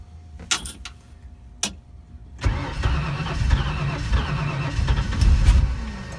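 A 1964 Mercury V8 fitted with Holley Sniper EFI is cold-started: a few clicks, a cranking catch, then the engine fires and settles into a loud, rough, lumpy idle close by.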